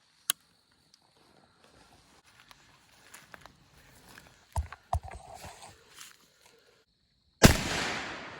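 A single sharp rifle shot at a wild hog rings out loud and close in White River bottomland woods, preceded by scattered rustling and movement sounds.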